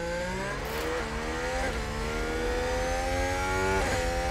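F1 cars race and overtake in F1 Manager 2022 at Le Castellet, high-pitched engines whining through rising gear-change sweeps, several cars layered and revving continuously.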